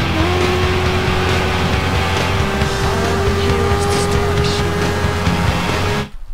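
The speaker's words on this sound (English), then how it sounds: "The vehicle is too loud" A racing car's engine in the Test Drive game drones loudly and steadily at a constant pitch around Hawaii Island, with faint tire noise layered over the steady roar, before cutting off abruptly at the end.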